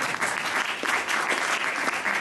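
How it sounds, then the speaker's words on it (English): Audience applause for an actor playing Mr. Pecksniff in a Dickens show, thick and continuous clapping throughout the short clip. "Give him a clap."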